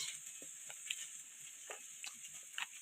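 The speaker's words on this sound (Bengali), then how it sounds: "সেই জন্য একটু পেঁয়াজ কলি ভাজছি" Spring onion stalks fry in a pan at home, giving a faint, steady sizzle dotted with small scattered crackles and pops, with no one talking.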